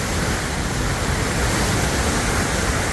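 Water roars out of the bottom of Philpott Dam under strong pressure, a loud, dense, unbroken rush heard up close with no voices.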